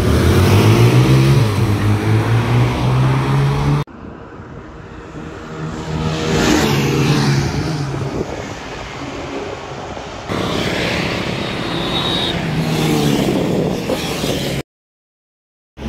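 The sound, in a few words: two Apache 160 motorcycles accelerating in drag race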